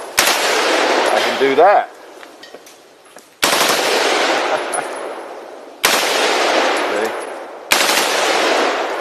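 A Colt M16 rifle fires on full auto in four loud, close bursts, each a sharp burst of rapid shots followed by a decaying echo, with a short spoken phrase between them.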